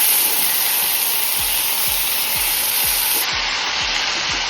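Onions and asafoetida sauté in a pan, giving a steady close sizzle throughout, with a few soft periodic scraping stirs, and no voices.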